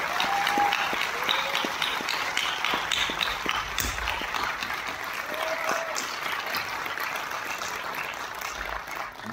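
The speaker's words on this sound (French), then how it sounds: "Les applaudissements pour l'équipe du FIF." Audience at a film festival closing ceremony gives a long, steady round of applause, full and even, with a few whoops and voices rising over the clapping.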